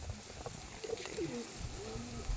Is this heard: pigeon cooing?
yes